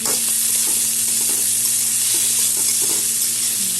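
Two medium chopped onions and tomato fry in a pan for a Bengali prawn curry, giving a steady, close sizzle with occasional stirring scrapes throughout.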